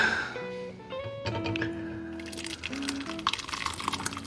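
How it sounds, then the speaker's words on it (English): Homemade shrimp stock strained through cheesecloth and a strainer trickles and pours in a close, soft liquid flow that grows busier toward the end, with small splashes and drips. "So we're just using a cheesecloth to get all of these big chunks out with a strainer underneath"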